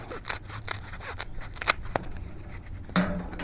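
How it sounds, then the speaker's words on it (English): A few quick scissor snips cut away material while a bucket handle is being made, close and fairly crisp, with small rubbing sounds between cuts. "So I'm just going to cut some of this off."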